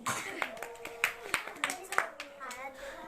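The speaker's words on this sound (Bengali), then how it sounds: "সবাই আরাধ্যার জন্য জোরে হাততালি দাও" Children in an offline drawing class clap together, a run of sharp uneven hand claps spread through about three seconds, close and fairly loud, with a teacher's voice and kids' talk mixed in.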